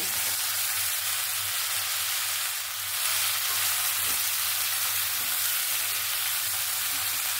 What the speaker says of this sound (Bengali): নাড়াচাড়া করে ভালো করে আমি মিক্স করে নিয়েছি